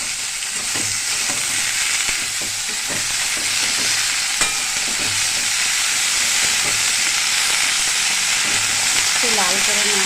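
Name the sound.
bottle gourd stems frying and sizzling in a pan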